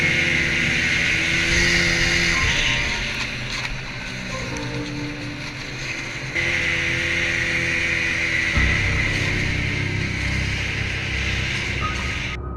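A snowmobile engine drones loudly and steadily while chasing a wolf across open snow, its pitch shifting as the machine speeds up and slows, with wind rushing over the motor noise.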